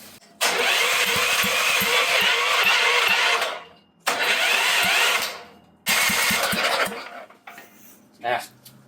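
A trashed generator with a seized motor sputters and pops through three loud, close bursts of running that each cut out abruptly, with brief quiet gaps and a short mechanical clunk near the end.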